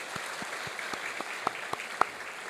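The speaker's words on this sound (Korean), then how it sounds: "박수하겠습니다" Church congregation applause after a special song at a Korean church disability-week service, a soft steady patter of many hands with a few sharper claps, fairly distant and faint, no talk.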